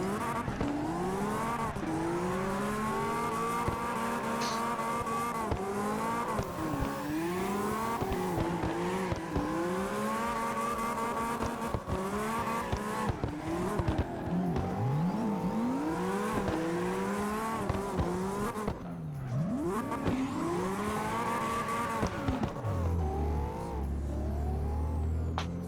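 A BMW E92 and a Toyota A90 Supra battle in a drift competition, engines revving hard with long rising and falling pitch sweeps and tire squeal, continuous and loud at a distance.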